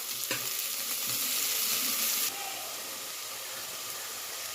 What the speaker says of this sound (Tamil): வெங்காயம், இது கொஞ்ச நேரம் நல்லா ஃப்ரை ஆகணும்.